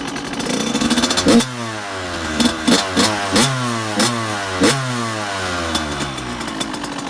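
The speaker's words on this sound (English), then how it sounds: "I just have it on a bucket just to start it and run it" A 2002 Suzuki RM85 two-stroke dirt bike engine runs up on a stand, with steady close idle broken by repeated sharp revs that rise and fall, loud and alone.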